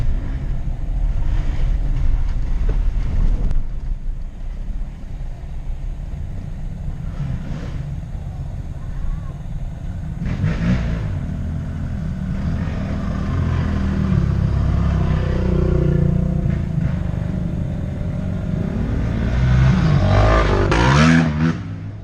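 Off-road vehicles on a mountain trail rumble close behind, a low engine drone rising and swelling with revving surges, loudest near the end.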